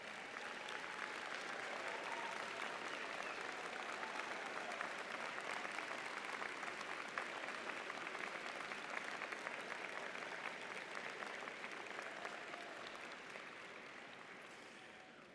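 Graduates at a university winter commencement ceremony applauding their family members, a broad, even wave of clapping from a large hall crowd that holds steady and fades gently near the end.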